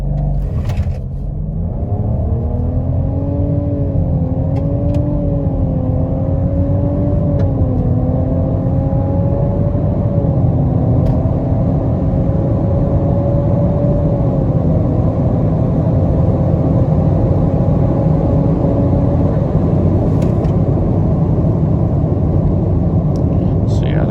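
A 2022 Nissan Rogue VC-Turbo pulls away hard after a brake-torque launch at night, its engine drone rising steadily in pitch from close inside the cabin, with a speaker talking throughout.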